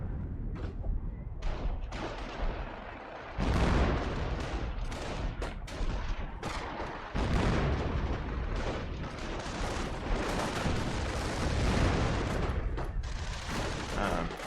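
Artillery barrage in a wartime strategy game pounding infantry, a dense, continuous roar of overlapping blasts and gunfire with heavier bursts swelling in partway through, loud and sustained throughout.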